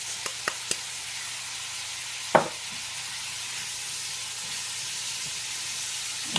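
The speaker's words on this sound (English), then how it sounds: "So my meat is browning, and to this I'm going to go ahead and add onion." Ground beef browns with diced onion in a pan, giving a low, even sizzle with a few light clicks early on and one sharp clatter partway through, heard alone.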